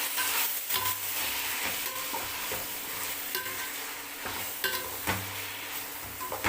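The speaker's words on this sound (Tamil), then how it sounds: "கொஞ்சம் நல்லா மிக்ஸ் பண்ணிக்கோங்க." Chicken biryani masala stirred and mixed in a pan, a steady sizzle with repeated scraping strokes of a spoon against the metal, close and continuous, no voices.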